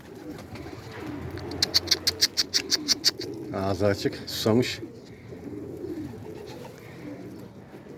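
Arab dolapçı pigeons coo close by, with a rapid run of sharp rhythmic clicks or flaps and a couple of louder throaty bursts midway, while someone talks and calls to the birds throughout.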